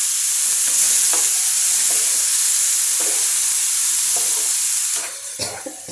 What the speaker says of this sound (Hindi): इसमें मैं ये बारीक कटी हुई तोरी डाल रही हूँ